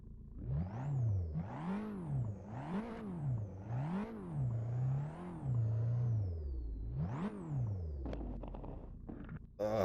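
Toyota Yaris GR engine in Assetto Corsa, revving loudly through repeated rising and falling sweeps, about six rev cycles of whining acceleration and shifts, then dropping to a lower drone with some clatter near the end, no talking.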